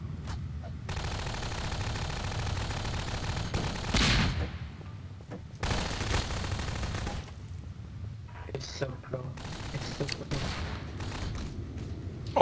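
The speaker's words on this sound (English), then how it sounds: "Oh my gosh, there's so many explosions!" Explosions and rapid gunfire fill a Prop Hunt video game match in loud bursts of crackling shots and booms, with brief pauses between volleys.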